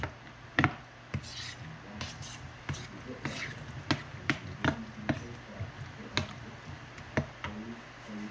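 Summer pasta salad ingredients get stirred together in a bowl, heard as a run of uneven clinks, taps and scrapes of a utensil, with a voice speaking now and then between them.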